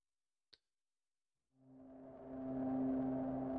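A single faint click, then after a pause a droning synthesized texture swells in and sustains, hazy and slowly building.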